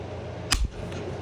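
A staple gun driving staples into the hide of a mountain banjo being stretched: a single sharp, close snap followed quickly by a short thudding knock, alone in a quiet room.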